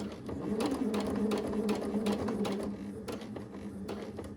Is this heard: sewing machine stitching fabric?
yes